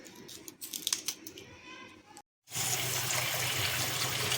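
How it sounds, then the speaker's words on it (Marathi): Kantule wild vegetable is washed in water: light handling and rustling at first, then after a brief silence a steady, fairly loud gush of running water. "इथे भाजी आपण स्वच्छ धुवून घ्यायची व्यवस्थित सोडून घ्यायचे"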